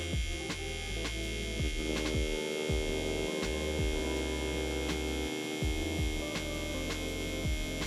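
Tattoo machine running steadily while straight lines are practiced, a close continuous electric buzz and hum with a few faint clicks, no talking.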